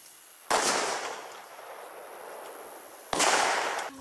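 Stun grenades go off before dawn at a children's training camp near Ternopil: two sharp, loud blasts a few seconds apart, each with a rushing, hissing decay that leaves a steady noisy wash between them.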